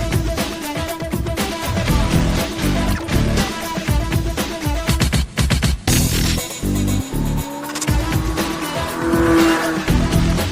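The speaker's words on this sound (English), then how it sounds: "Man, this thing drifts so nicely." A 630-horsepower big-block Chevrolet C10 truck drifts, its engine roaring and revving hard while the tires squeal and skid in long loud bursts, close and dominant throughout.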